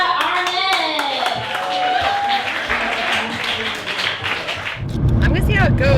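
Audience clapping and cheering for a comedian at an open mic, with voices mixed into the applause, then a burst of louder clapping near the end.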